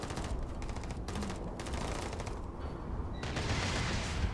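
Enemy gunfire in the game Starfield crackles in rapid automatic bursts, loud and fairly close, with short gaps between volleys and a continuous bed of combat noise.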